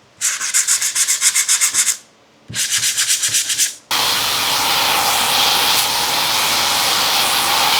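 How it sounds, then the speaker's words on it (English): A wrecked Jetta's car body panel is sanded with 220 grit sandpaper in two bursts of fast, rhythmic, close scratching strokes, followed by a loud, continuous broadband rushing hiss. "I'm going to go in with 220 grit sandpaper to make sure everything's smoothed out and no deep scratches."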